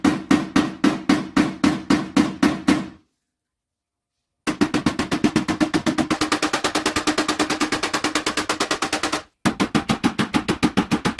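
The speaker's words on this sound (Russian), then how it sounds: "Вот другой молоточек." Small hammer rapidly tapping out dents in a car wing's bodywork in a repair shop, a fast even train of sharp metallic knocks, a pause, then a long dense burst of tapping, close and loud with no talk.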